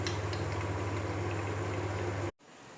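Water boils off in a pot of mutton and gourd curry, a steady close bubbling and sizzling hiss that cuts off abruptly near the end.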